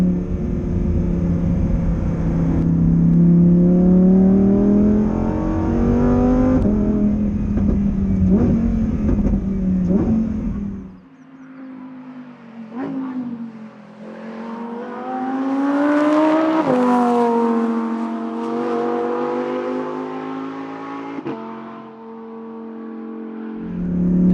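A Lamborghini Huracán Performante on a race track, its engine droning loudly before dropping off and blipping through downshifts, then climbing again in a sustained rising howl.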